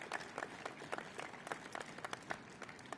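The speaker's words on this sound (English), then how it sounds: "Now, you can go ahead and applaud." Audience applause after a speech at a Wrigley Field event, heard faintly and at a distance as scattered, light clapping with distinct individual claps rather than a full roar.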